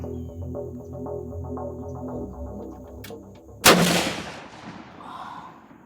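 A single loud gunshot cracks at a shooting range, sharp and close, with a short echoing decay, following a stretch of low rumbling background noise.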